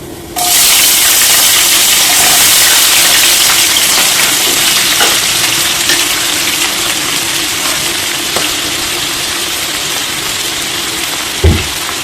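Cumin seeds, chopped green chillies and onions sizzle in hot oil in a pan for spinach curry, a loud steady hiss that starts abruptly and continues evenly, with a small knock near the end.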